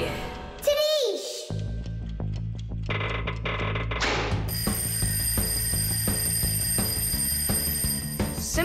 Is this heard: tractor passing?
no